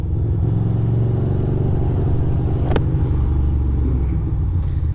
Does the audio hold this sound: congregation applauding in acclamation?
no